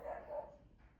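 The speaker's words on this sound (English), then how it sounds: "I have dogs in the neighborhood" A dog barks once somewhere in a residential neighborhood, a faint, distant woof with no voices around it.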